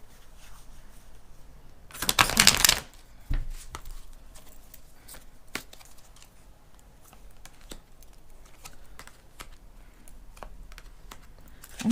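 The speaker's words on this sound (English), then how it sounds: "All right, one shuffle and then we'll cut." A smaller Rider-Waite tarot deck being shuffled once, a brief burst of riffling card flutter followed by soft taps and handling clicks, near and otherwise quiet.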